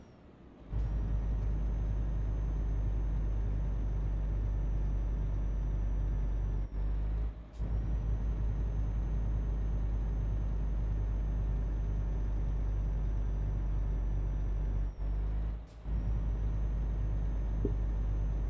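Steady low engine drone of a truck driving up a winding, steep incline in a trucking video game, constant and loud with a high whine, briefly dropping out three times before resuming.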